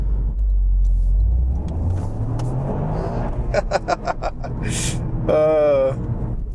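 Toyota GR Yaris Gen 2 engine rumbles and climbs in revs, with sharp repeated bursts bouncing off the rev limiter near the end, loud and close, partly under a speaking voice.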